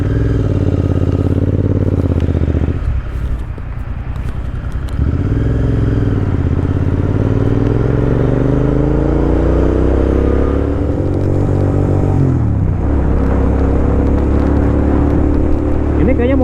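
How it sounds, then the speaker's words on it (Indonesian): A loud engine hums close by while a motorcycle revs and passes, its pitch rising and falling as it goes by. "Ini kayaknya motor lewat kiri deh Om."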